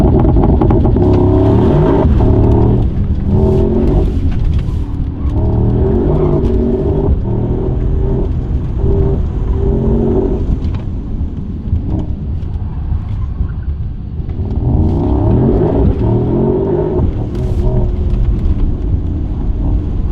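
A four-wheel-drive Mercedes-AMG GT63 with 585 horsepower accelerating hard around a track, its engine roaring loud and close with rising and falling revs through gear changes for the whole stretch.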